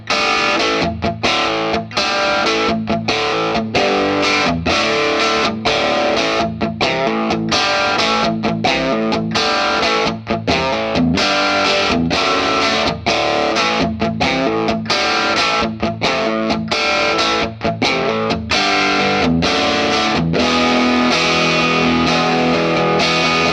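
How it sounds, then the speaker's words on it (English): Telecaster electric guitar through a HeadRush Revalver amp simulator set for a classic rock tone, playing a continuous run of driven rhythm chords and open chords with steady strummed attacks, loud and alone. "my second preset patch, which is called the Classic Rock Telecaster"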